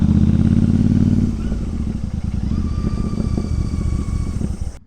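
Motorcycle engine braking on a downhill slope in the Japanese countryside, a steady loud rumbling drone that drops in pitch after a second and keeps pulsing evenly with faint whine above.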